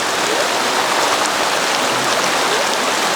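A river near a forested mountain roadside gives a steady, close rushing hiss of flowing water, unbroken throughout with no voices.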